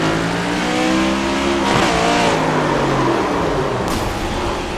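In-car engine of a race car in a racing video game, loud and close, revving up and down through quick gear changes with a brief tire-squeal burst, no voices.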